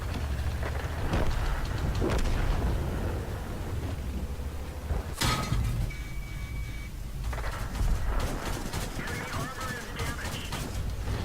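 A tank gun fires once in World of Tanks, a single sharp boom near the middle over a steady low rumble of engine and battlefield ambience.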